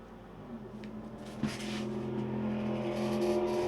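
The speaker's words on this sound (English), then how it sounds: "Sounds like a V8 though. It was a car, definitely." A car with a V8 engine drives past, its droning engine tone steady at first, then swelling louder after a short knock, heard fairly near with no talk.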